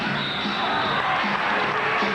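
Crowd noise from spectators at an indoor MISL soccer match in Dallas, Sidekicks against the Chicago Sting in 1985, a steady loud roar of cheering filling the arena with no break.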